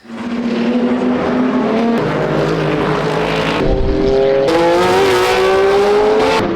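Sports cars race past at Laguna Seca, loud engines howling close by. One car's pitch slides down as it passes, then another roars through with a rising whine, the overlapping engine notes filling the track.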